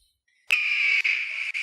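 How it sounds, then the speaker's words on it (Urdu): A kite bird lets out a sustained, piercing high call that starts abruptly after a moment of silence and continues with two brief breaks, heard alone during a children's sound-guessing game. "چیل آواز ہے یہ"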